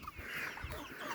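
Chickens cluck briefly and faintly in a quick burst of short, clipped calls, heard alone without talk.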